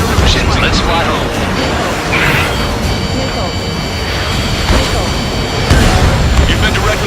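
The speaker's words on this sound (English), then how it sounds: "You've been directly hit by a missile." Missile strike on the player's jet in Ace Combat 7, a continuous roaring rumble of booms and engine noise with a voice talking over it, loud and dense throughout.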